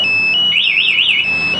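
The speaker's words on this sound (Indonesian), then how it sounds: "maka alarm akan berbunyi keras" A loud electronic motorcycle alarm on a 2020 Yamaha NMAX sounds: a steady high tone, then a rapid warbling whoop, then the steady tone again.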